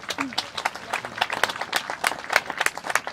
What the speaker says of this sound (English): One big round of applause for everybody